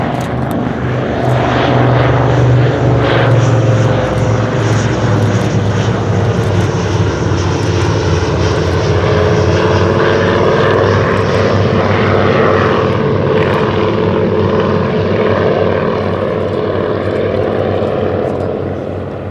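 A vintage propeller aircraft in wartime Royal Navy markings, an Avro Anson or de Havilland Dragon Rapide, flies at the Shuttleworth Fly Navy airshow. A loud, steady piston-engine drone continues throughout without speech.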